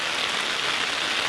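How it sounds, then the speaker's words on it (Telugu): Heavy rain pours down on paddy fields during rice transplanting, a dense, steady hiss of drops striking water and ground with no voices. "ఈరోజు అయితే నాటు వేయడానికి వస్తే వర్షం అయితే భారీగా వస్తుంది."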